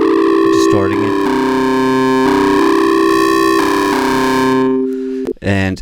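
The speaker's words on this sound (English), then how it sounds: "the analog distortion, you can hear it's distorting it" A synth melody plays through an analog distortion effect in a Super VHS lo-fi plugin, giving sustained, buzzy, heavily distorted tones with dense harmonics, then cuts to a few short gritty stabs near the end.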